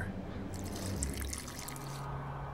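Water poured in during an alchemy crafting step in the video game The Witcher 2, a steady trickling splash lasting about a second and a half over a low background hum.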